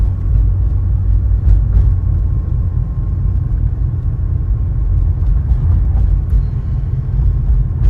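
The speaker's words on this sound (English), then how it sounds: "I just saw a car turning behind me" A car moves through a street roundabout at night with a low, steady engine rumble close by and some brief clicks and knocks over it.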